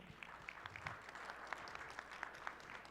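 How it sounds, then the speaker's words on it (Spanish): A small audience at a weekly assembly in Mexico gives brief, faint, scattered applause, heard from a distance. "Un aplauso, por favor."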